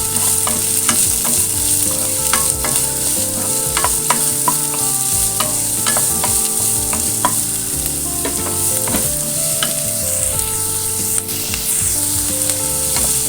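Two chopped onions hit a pan of roasted ginger and garlic for a South Indian masala pasta, crackling in a loud, steady sizzle. Frequent clicks and scrapes of a stirring spoon run through it, and no one speaks.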